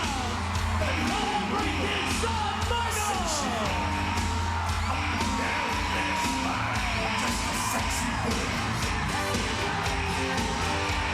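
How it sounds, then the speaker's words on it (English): A capacity crowd at a WWE wrestling event featuring Shawn Michaels yells, whoops and bellows in a loud, continuous wall of cheering, with scattered shouts rising above the roar. "This capacity crowd is electric!"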